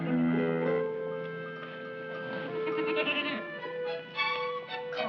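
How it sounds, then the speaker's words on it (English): A goat bleats repeatedly in a wavering, nasal tone, close and fairly loud, with several overlapping calls in quick succession and no talking. "Come on, you silly goat."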